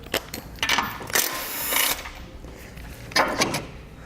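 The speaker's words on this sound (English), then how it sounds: "We'll use a 10mm socket to remove that." A 10mm socket wrench removes a bumper support nut on a 2019 Jeep Cherokee, giving a few sharp metallic ratcheting clicks and short bursts of scraping, close and fairly loud.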